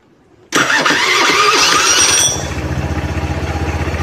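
A motorcycle engine cranks on the starter, catches sharply after a short quiet, revs briefly, then settles into a steady, loud, close idle pulsing with even firing beats.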